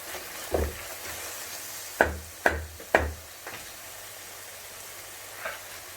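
A spoon stirs curry gravy frying in a pan for thikkadi, a Kerala pidi dish, giving a handful of sharp knocks and scrapes against the pan over a faint low sizzle, close with no voices.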